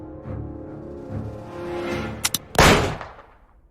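Blank gunshots fired in the Agatha Christie The ABC Murders video game: two sharp close cracks, then a louder, longer blast over a low game music bed.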